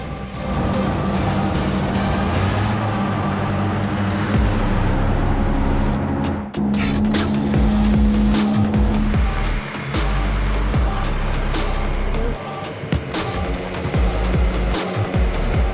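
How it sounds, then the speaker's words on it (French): The engines of an AirScooter attempting an English Channel crossing roar continuously at high power, a loud sustained rumble with a steady tone, shifting slightly partway through. "Tous les moteurs en run"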